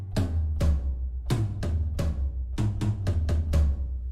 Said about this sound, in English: Then we got toms, which sounds like this.